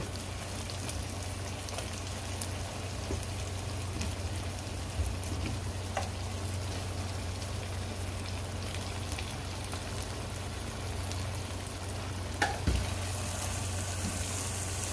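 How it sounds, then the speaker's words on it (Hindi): Chicken fries in oil with browned onions and tomatoes, giving a steady, soft, rain-like crackle and sizzle that runs evenly throughout with occasional faint clicks. "ऑयल में हम इसे फ्राई करेंगे, इनके साथ इसे भूनेंगे।"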